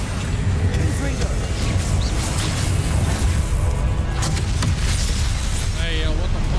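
A Confringo blasting spell goes off in the Hogwarts Legacy video game, a loud booming burst among dense combat effects and steady game noise.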